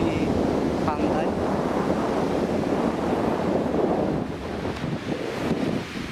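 Steady wind and rolling surf at Komatsu beach in Tokushima in summer, a loud continuous seaside roar of breeze and waves that eases slightly toward the end, with no talking.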